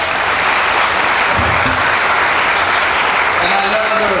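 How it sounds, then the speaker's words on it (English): Audience applause at a county town hall meeting, loud and continuous clapping from a packed room with faint voices mixed in underneath. "Can we give her a round of applause?"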